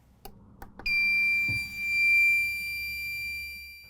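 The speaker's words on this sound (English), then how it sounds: "This will activate the buzzer." A cGas gas detector's test buzzer gives a few soft clicks, then sounds a loud, steady high-pitched electronic tone that carries on unbroken to the end.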